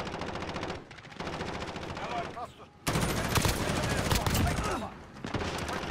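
Sustained automatic gunshots in Call of Duty: Modern Warfare team deathmatch, loud rattling bursts that dip briefly then return even louder, continuing to the end.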